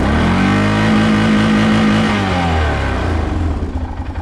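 A 2011 Arctic Cat ATV revs hard in neutral, its engine close and loud as the RPM limiter cuts in with a rapid rhythmic sputter before the revs drop away toward idle.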